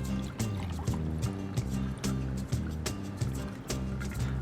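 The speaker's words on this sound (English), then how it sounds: "Pour it over the rocks." A cocktail is poured over ice in a glass, a continuous close liquid splash with regular bumps and clinks of shifting ice running throughout.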